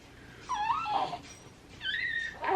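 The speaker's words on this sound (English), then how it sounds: "Huck is barking." Huck, a pet dog indoors, lets out a few high, drawn-out whining yelps and whimpering barks in separate bursts, fairly close and alone without any speech.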